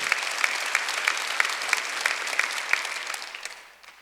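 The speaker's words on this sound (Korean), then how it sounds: "박수 세게 쳐요" A church congregation at a Sunday worship service claps hard in unison, producing sharp, evenly spaced rhythmic beats over a blur of scattered applause that fades toward the end.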